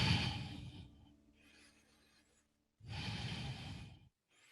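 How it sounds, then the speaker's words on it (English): Deep, slow breathing during a yoga balance pose: two long, full exhalations, each lasting over a second, separated by quieter inhalations, close and alone without talk. "3 deep breaths."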